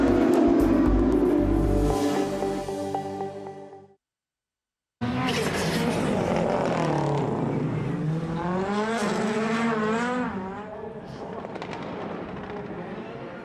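Rallycross race cars roar past at close range, engines screaming and rising in pitch through gear changes at Hockenheim, with a loud pass, a brief cut to silence, then another long revving run.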